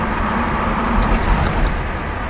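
A 1979 Hurst Olds rumbles loudly from inside the cabin as it accelerates, with a steady, close engine drone and road noise and no talking.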